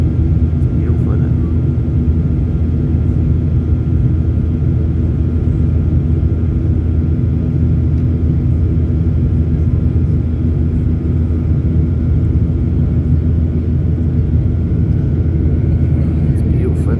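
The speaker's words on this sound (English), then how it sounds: "This plane takeoff from INNSBRUCK Airport." A passenger plane taking off from Innsbruck Airport, a steady, loud, low engine rumble and roar that holds constant throughout without break.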